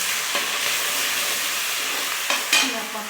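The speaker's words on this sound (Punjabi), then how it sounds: "ਹੋ ਗਿਆ ਤੇਲ ਗਰਮ ਤੇ ਇਹਦੇ ਚ ਆਪਾਂ ਪਾਤਾ ਜੀਰਾ" Cumin seeds frying in hot oil in a pan while cooking palak paneer, a steady close sizzle and hiss with a couple of brief louder stirring bursts near the end, no talking.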